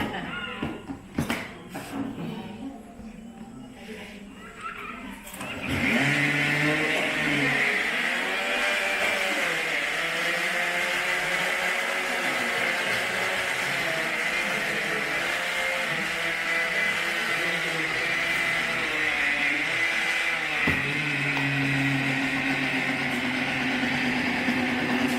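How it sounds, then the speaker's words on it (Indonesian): A blender runs steadily on sambung nyawa leaves and water, a loud continuous motor whir starting after a few seconds of quieter handling noise and holding for about twenty seconds. "Ini blender sudah sampai bonyok"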